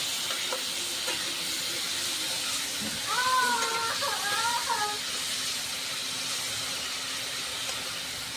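Katla fish fries in hot oil with a steady, close sizzling hiss that runs throughout, while someone speaks briefly over it.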